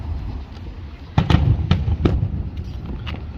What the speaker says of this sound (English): like those fireworks.